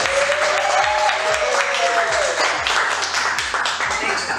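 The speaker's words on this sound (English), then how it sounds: "A round of applause." An audience claps for an author introduced at a book event in San Francisco, with steady applause mixed with crowd murmur and background music.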